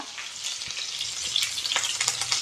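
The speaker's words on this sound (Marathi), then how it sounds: "इथं आपण टाकणार आहोत मिरची कढीपत्ता" Green chilies and curry leaves crackle and sizzle in hot oil in a pan for dahi kadhi, a steady close frying hiss with sharp pops scattered throughout.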